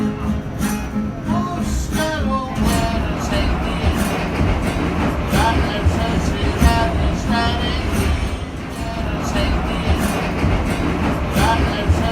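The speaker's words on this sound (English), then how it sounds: "So we are getting back on the train" A New York City train rumbles steadily along the rails in Queens with a continuous clattering roar, and voices murmur faintly beneath the noise.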